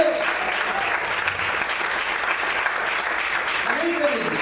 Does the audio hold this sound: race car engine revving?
no